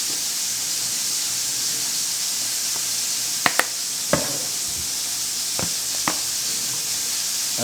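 A burger patty sizzles in the pan for a cheeseburger bagel sandwich, a steady bright hiss throughout with a few sharp pops and crackles scattered over it, no talking.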